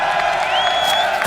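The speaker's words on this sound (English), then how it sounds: "I love that there's a crowd that cheers." A crowd cheers loudly in an action scene, a dense steady roar of voices lasting just over a second, with a thin rising whistle-like tone inside it.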